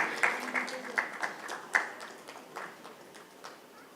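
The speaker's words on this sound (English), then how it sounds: "Can we have a big round of applause for Dr." Sparse, scattered clapping at a medical congress award presentation, a few distinct claps ringing out in an echoing hall before trailing off.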